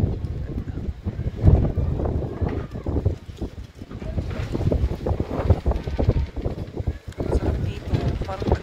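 Cold wind in Sariaya buffets the microphone in loud, gusty rumbles throughout, with people talking faintly underneath.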